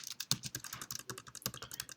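Rapid typing on a computer keyboard while entering credit card details, a dense run of close, crisp key clicks with a few heavier strokes, no voices.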